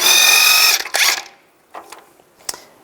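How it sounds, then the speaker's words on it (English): A ratchet or power tool with a 21mm socket whirs briefly while removing a castle nut from the axle of a 2005-15 Nissan Xterra, then a few faint metallic clicks and taps follow. "Take off the castle nut."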